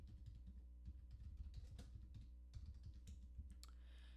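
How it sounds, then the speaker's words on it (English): Typing on a computer keyboard: quick, uneven clacks of keys close by, heard alone at low volume. "So we simply type it in."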